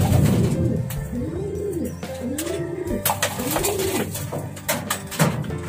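Racing pigeons coo close by in repeated rising-and-falling phrases, with soft shuffling and knocks around the loft between the calls.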